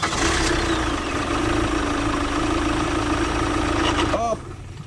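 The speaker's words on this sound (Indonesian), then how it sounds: "Sekarang kita starter mobilnya." A Chevrolet Captiva engine turns over and settles into a steady, fairly loud idle with a constant mid-low drone, followed by a brief whirring change near the end.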